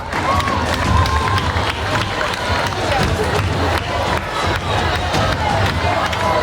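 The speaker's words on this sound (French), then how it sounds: "avec un tonnerre d'applaudissements" A large crowd at a school student government ceremony claps and cheers loudly and continuously, a dense wash of applause with shouts mixed in.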